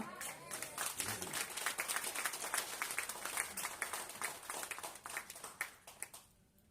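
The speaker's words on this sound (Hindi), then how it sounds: "बड़ी जल्दी तालियां बज रही हैं यार" An audience at a motivational speech by a company general manager breaks into quick applause: dense, steady clapping from many hands for several seconds, then fading out near the end.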